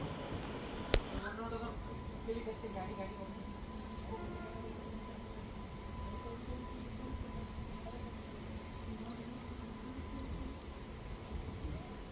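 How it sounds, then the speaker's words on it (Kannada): A CSMT to Chennai Egmore superfast express runs past at Kalaburagi junction, heard from a moving train as a faint continuous rail rumble and wheel noise with brief clanks, low and steady throughout. "CSMT ಟು ಚೆನ್ನೈ ಎಗ್ಮೋರ್ ಹೋಗೋ super fast express Kalaburagi junction ಒಳಗೆ ಹೋಗ್ತಿದೆ, ಕ್ರಾಸಿಂಗ್ ಆಗ್ತಿದೆ"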